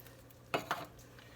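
A can of diced peeled tomatoes tipped into a chili pot on a Char-Griller Akorn, giving two quick metallic clinks and a soft plop close by in a quiet kitchen.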